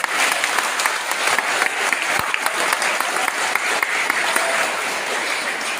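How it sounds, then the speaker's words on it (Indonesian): Steady, dense applause from a crowd at a wedding in a chapel, continuous and fairly loud throughout with scattered sharper claps standing out. "Tepuk tangan."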